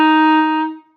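A single sustained clarinet F sounds alone, close and clear, holding steady for most of a second before fading out.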